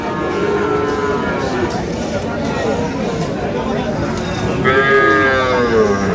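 Cattle at a busy livestock market moo loudly and repeatedly, long lowing calls rising over a constant crowd babble with people talking nearby.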